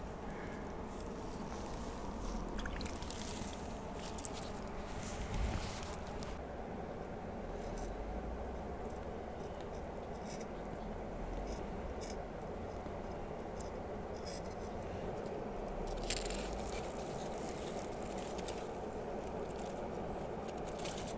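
Wetted fluorocarbon fishing line being pushed through soft rubber nipple tubing while rigging catfish tackle, giving a faint, continuous scratchy rubbing and squeaking close by, fairly steady over about twenty seconds with a few brief louder scrapes.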